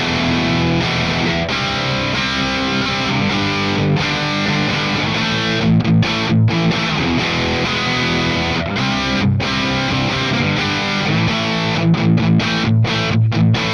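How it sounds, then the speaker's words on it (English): An electric guitar through an amp simulator with a crunchy, moderately overdriven tone strums chords and short riffs, steady and loud, with occasional brief pauses. "This one feels a little bit like crunchy instead of like distorted,"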